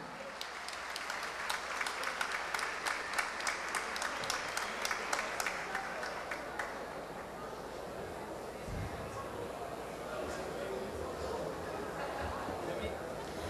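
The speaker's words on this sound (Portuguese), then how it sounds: "Vamos aplaudir." Audience applause at the final of a Gaúcho song festival award ceremony, sustained crowd clapping that is strongest at first and thins into looser, scattered claps and murmuring crowd noise toward the end.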